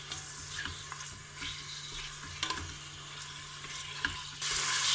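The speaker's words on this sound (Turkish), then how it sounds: "kaburgamı şöyle rengi dönene kadar biraz kavurdum" Pork ribs sizzle and spatter as they sauté in a hot pressure cooker pot, a steady frying crackle with occasional stirring clinks.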